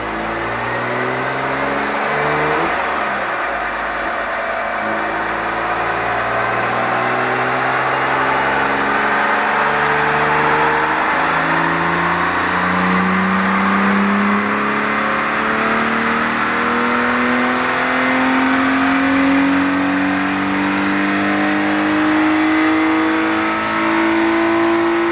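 A tuned BMW engine on a dyno runs loud and alone, revving up through a long steady pull that climbs in pitch, with brief shifts and dips along the way.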